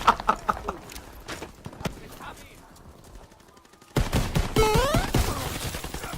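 Jumping shotgun fire in a video game, with a run of sharp, loud blasts at the start, a quieter stretch, then a dense burst of shots and whooshing effects in the second half, with talk mixed in.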